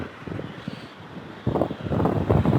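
Strong wind buffets the microphone in rough, rumbling gusts that grow louder partway through, with no voices.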